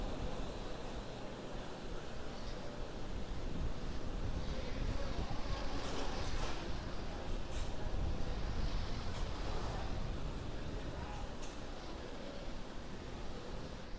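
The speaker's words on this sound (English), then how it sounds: "The 9 Merlin 1D engines going back to full power." Nine Merlin 1D engines of a SpaceX Falcon 9 rocket at full power during ascent, a steady, loud, broadband rumbling roar that holds without pause throughout, with wind-like buffeting and no voices over it.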